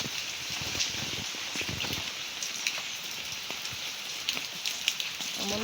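Heavy rain falls steadily close by, a dense continuous patter with scattered louder drips and splashes on nearby surfaces and no voices.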